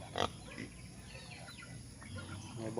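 Wild boars penned in a former piggery on a farm lot in Pagsanjan, Laguna give brief grunts and squeals close by, with a sharp call near the start amid quiet farmyard background.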